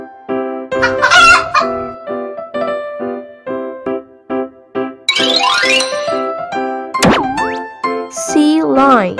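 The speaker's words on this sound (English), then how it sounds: "Chicken." A rooster crows loudly and repeatedly in a children's animal-learning piece, its cries mixed with clucking and bright chiming tones, and a voice speaks between the calls.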